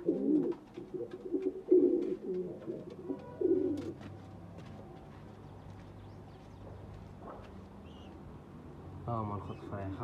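Domestic pigeons coo in low, throaty bursts at close range in a home loft with eggs and young squabs; three louder coo phrases come early, then softer calls continue alongside faint background clatter.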